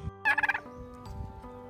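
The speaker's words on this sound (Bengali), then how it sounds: "টার্কি পাখি।" A turkey gobbles once, loud and close, a quick rattling burst of rapid pulses followed by quieter background noise.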